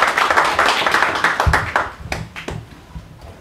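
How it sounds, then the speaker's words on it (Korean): A crowd at a Korean book launch event claps to welcome a union leader, loud and dense at first, then thinning into scattered individual claps that fade out by the end. "큰 박수 부탁드립니다."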